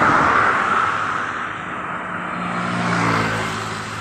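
A motorized tricycle passes on a road behind a house in a quiet rural neighborhood, its steady engine rumble loud and close throughout, swelling slightly toward the end, with no talking.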